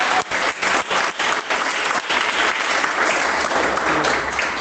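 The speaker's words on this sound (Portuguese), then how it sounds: "dar uma salva de palmas bem alegre para Jesus" A church congregation applauds joyfully during a worship service, a dense, steady wash of many hands clapping together that swells slightly and holds across the whole stretch without any voices rising above it.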